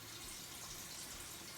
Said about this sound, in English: Don't forget to refill the canner so that you've got more water if you need it.